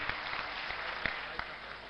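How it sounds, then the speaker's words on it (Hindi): An audience at Simhastha Kumbh in Ujjain applauds to welcome poet Manveer Madhur: a soft, steady wash of clapping with a few sharper claps standing out, heard from a distance. "चाहता हूं पूरा सदन एक बार जोरदार तालियों से आमंत्रित करें भाई मनवीर मधुर"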